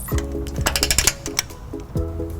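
A torque wrench with a 19mm socket and 5-inch extension tightens a trailer hitch bolt on a 2013 Lexus GX 460, giving rapid ratcheting clicks in several close bursts with brief pauses between them.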